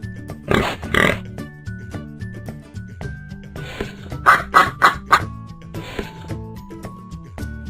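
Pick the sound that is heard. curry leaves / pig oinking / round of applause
pig oinking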